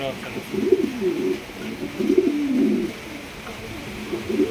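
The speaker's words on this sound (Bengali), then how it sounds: "দেখেন কত সুন্দর এক জোড়া কবুতর আপনারা নিতে পারবেন" A pair of pigeons at a pigeon market coos in low, rolling, throaty phrases close by, repeating several times over a soft background hum.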